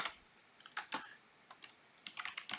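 Computer keyboard typing in short, irregular bursts of quick clicks, close and fairly quiet with small pauses between keystroke groups.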